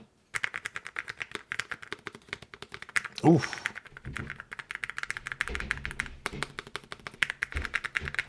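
Rapid, continuous typing on a low-profile keyboard with soft, even key taps, briefly broken by a single exclaimed word from a nearby voice.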